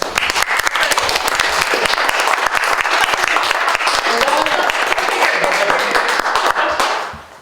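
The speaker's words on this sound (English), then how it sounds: "we want to thank all of our panelists, so can we do a round of applause?" Loud, sustained audience applause for a panel at a talk on humanism and climate justice, dense clapping from a sizeable crowd that holds steady for several seconds before tapering off at the end.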